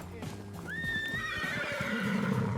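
A horse sound effect: a close, loud neigh rises into a long wavering whinny over faint hoof clip-clops, with no speech.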